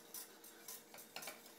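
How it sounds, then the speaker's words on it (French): Cornstarch whisked into a saucepan for a rhubarb-tonka curd, a quiet series of scraping, swishing strokes of a whisk against the pan in an irregular rhythm, faint and close, with no talking. "Et là on va mettre la maïzena dans la casserole. D'accord, et tu vas fouetter?"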